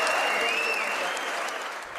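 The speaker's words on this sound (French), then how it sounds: "Très applaudi, le président américain est en terrain conquis." An audience in the US Congress applauds President Donald Trump, a loud, dense, continuous clapping that fills the whole moment and tapers slightly toward the end.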